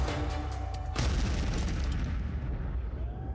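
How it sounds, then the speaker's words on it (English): A powerful explosion booms through a crowd at Centennial Park in Atlanta during the Summer Olympics, a sudden loud blast with deep rumble that rolls on and slowly decays. "An explosion rips through the crowd."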